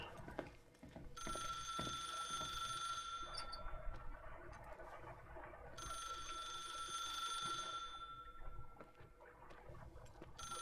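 In the video game The Suicide of Rachel Foster, a telephone rings in two long bursts of a bright, trilling electronic bell, separated by a brief pause, over a faint background hum, with no talking.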